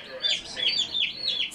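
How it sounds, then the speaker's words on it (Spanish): Repeated high, thin chirping peeps from chicks, several short calls in a row, fairly close, with a faint murmur of background noise. "ella tiene dos pollitos en su pecho, miren"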